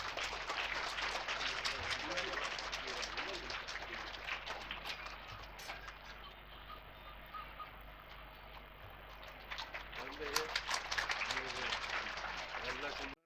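An audience at a church feast day Mass at a shrine claps steadily through the clip, a dense patter of hands that dips midway and swells again, with a voice speaking over it.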